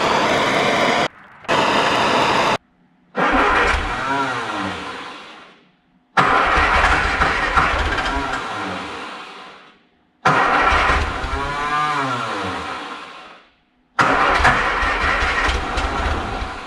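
A 1960 MG MGA 1600 roadster engine with low compression from valve corrosion cranks and fires repeatedly, catching and running loudly in several bursts separated by short pauses.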